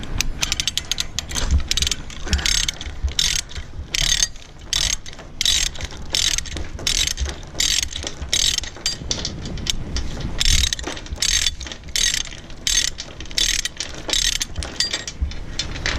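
Loud, rapid clicking of a ratcheting load binder being cranked on chain, in repeated bursts of ratcheting strokes with brief pauses between them.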